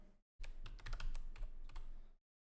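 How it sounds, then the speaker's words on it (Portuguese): Rapid, close clicking keystrokes on a computer keyboard in a quiet room, a burst of typing lasting under two seconds and then stopping into silence. "vou digitar Excel"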